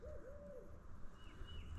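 A large owl hoots softly and far off in a wooded area near an old grave site, one low drawn-out call over a steady outdoor hum.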